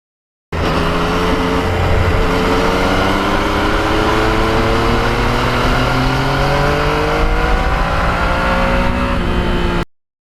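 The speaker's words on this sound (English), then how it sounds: "I just think the exhaust system on this bike is exceptional." A Yamaha MT-09 motorcycle exhaust, a loud, continuous engine drone with rising and falling revs held close for about nine seconds, with no voices over it.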